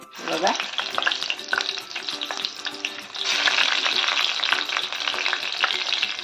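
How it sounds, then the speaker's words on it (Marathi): Steady, dense sizzling of slit green chillies frying in hot oil, close and fairly loud, growing fuller partway through, with occasional stirring. "हे बघा भजीसोबत मी तळणार आहे मिरची"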